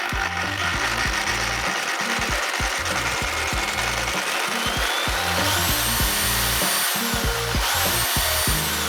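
A Dnipro-M reciprocating saw runs at varying speeds, its motor revving up and down in uneven bursts with a harsh mechanical buzz throughout.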